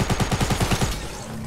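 Rapid burst of game gunfire in a battle royale match: about ten evenly spaced shots over under a second, loud and close, then a quick fade.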